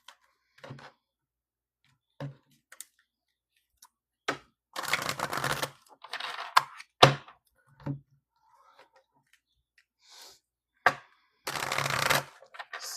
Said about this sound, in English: Let's give it a good little shuffle here.